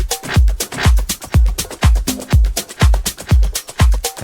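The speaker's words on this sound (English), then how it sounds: "it's just a clean kick drum, like nothing special" Clean electronic kick drum from a software plugin, about ten punchy low thumps in a steady, even rhythm, loud and dry with no voices.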